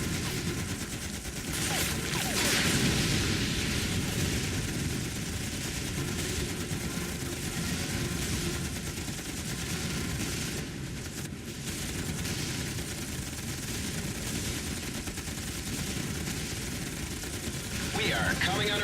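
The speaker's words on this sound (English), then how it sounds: "We are coming under enemy fire." Sustained enemy gunfire and explosive battle din from the naval combat video game Battle Stations Midway, a dense continuous barrage of shots and booms held at steady loudness throughout, with game voices talking over the fighting.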